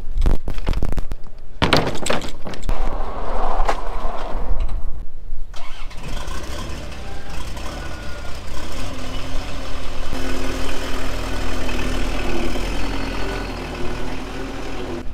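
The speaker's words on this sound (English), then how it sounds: "I just wanted to pull the skid steer out so that it could warm up." A skid steer engine cranks and catches, then settles into a loud, steady diesel idle warming up outdoors in strong nor'easter winds, close by with no talking.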